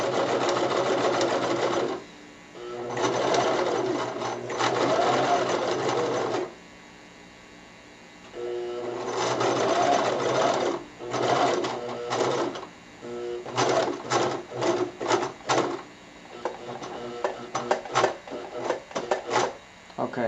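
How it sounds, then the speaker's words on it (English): A sewing machine stitches a border onto a non-leather wristband with webbing, running in several loud steady bursts separated by pauses, then breaking into short rapid start-stop stitching toward the end. "So I'm going to go ahead and sew the whole border on there and then come back."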